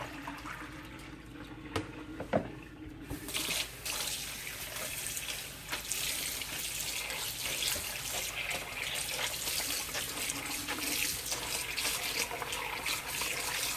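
Tap water runs hard into a sink while a knitted Trinity stitch scarf is rinsed, a steady close gush that starts after a few handling splashes and keeps flowing without a break.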